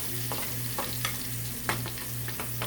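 Philly cheese steak filling cooks in a pan with a steady sizzle, a low constant hum underneath, and a few scattered stirring scrapes, with no one talking.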